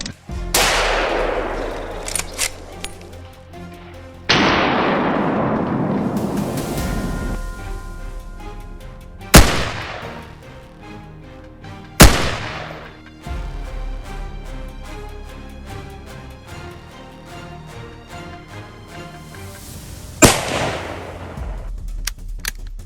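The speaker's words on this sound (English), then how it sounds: "I raised my rifle, timed my shot, and squeezed the trigger. A volley of shots rang out." Rifle shots ring out during a wild boar hunt in an open field, about five sharp, loud cracks spaced several seconds apart, each followed by a long rolling echo that decays over the landscape.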